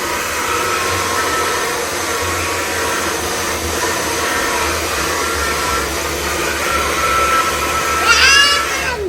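A handheld hair dryer blows steadily at close range while someone styles a young man's hair at home, a loud continuous whir with a brief change in pitch near the end.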